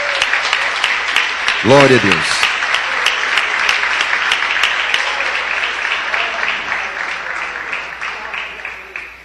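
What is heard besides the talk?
applause in church congregation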